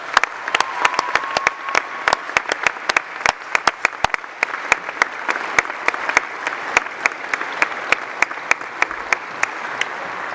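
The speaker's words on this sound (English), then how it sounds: "So let's give them a round of applause again." A university graduation audience applauds the graduates' families, a sustained round of clapping with distinct sharp individual claps standing out close by against the steady crowd wash.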